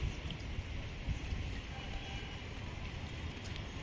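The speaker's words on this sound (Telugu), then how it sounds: "మనకు వర్షం పడుతుంది ఇప్పుడు" Light drizzle falls on a rooftop terrace vegetable garden as a faint, steady patter and hiss that runs without a break, with no voices.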